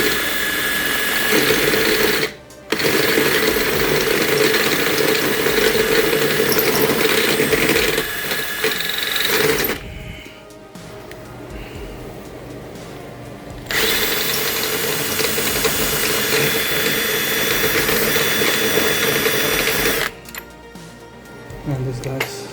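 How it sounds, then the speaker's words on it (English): A power drill whines loudly in long bursts, stopping briefly between runs as it drills out a rivet while replacing a Porsche Cayenne passenger-side window regulator. "the whole point is to drill it"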